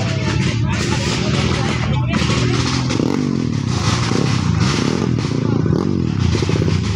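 An underbone motorcycle engine fires up and runs with a rough, clattering idle close by, while people talk over it.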